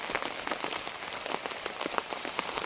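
Steady rain falls on a garden, a dense close patter of drops with scattered sharper taps throughout, continuous and without voices.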